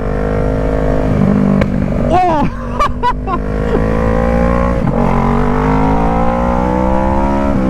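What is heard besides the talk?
Kawasaki ER6N motorcycle engine accelerating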